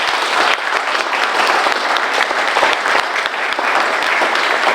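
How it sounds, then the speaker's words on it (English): A room full of people at a League of Women Voters candidate forum in Gold Beach claps steadily for the candidates, dense close applause that holds evenly throughout. "would you please join me in giving a round of applause to our candidates for their time"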